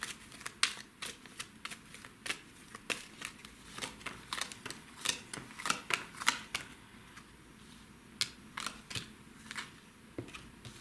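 Tarot cards being shuffled, handled and picked out one by one during a fortune-telling reading, giving soft repeated flicks, slides and snaps of card stock at close range with short pauses in between, and no voice.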